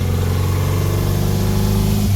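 A 1969 Volkswagen Baja Bug's engine drones loud and close while driving, a steady rough mid-pitched hum with a slight pitch shift near the end and no talking.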